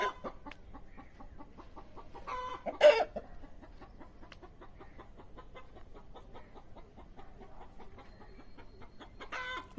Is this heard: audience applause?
no